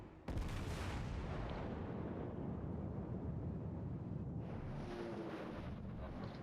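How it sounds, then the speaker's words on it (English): A Montana-class battleship's main guns fire a salvo at an Iowa in World of Warships, a loud booming blast that rolls into a sustained roar of rumble and wind noise, with no voices. "That Iowa shows a nice broadside, so let's take a shot at her."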